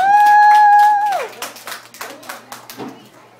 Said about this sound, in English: applause, guys. Woo!